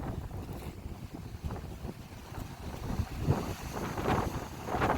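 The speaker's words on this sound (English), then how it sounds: "It is so windy." Strong coastal wind buffets the microphone in rough, gusting rumbles outdoors by the sea at a historic Florida house of refuge, with surf faintly underneath.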